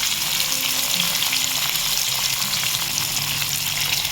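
Raw hilsa fish added to a pan of hot oil with black cumin fry with a loud, continuous sizzle, hissing evenly and close up throughout, with faint stirring underneath.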